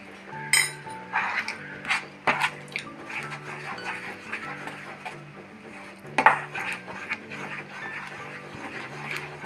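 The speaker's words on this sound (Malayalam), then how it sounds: "നന്നായി ഇളക്കണം." Coconut burfi is stirred in a pan over low flame, with a spoon repeatedly scraping and clanking against the metal in an uneven rhythm and a few sharper knocks, heard close with no voices.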